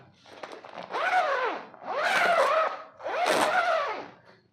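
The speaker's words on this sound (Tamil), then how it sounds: "ஸோ பேக் அன்பேக் பண்ணி பார்ப்போம். யா, ஜிப்புமே சூப்பர் குவாலிட்டி." A zipper on a Prolite backdrop stand bag is pulled open in three long, loud, close-up strokes with brief pauses between them.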